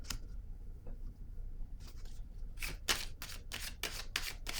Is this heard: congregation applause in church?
no